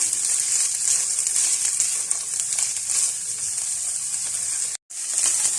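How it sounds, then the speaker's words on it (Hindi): Mixed vegetables sauté in a pan with a steady, bright sizzle and light crackle that runs continuously, broken by one brief silence near the end. "हल्का सा वेजिटेबल्स को सौते कर लेंगे"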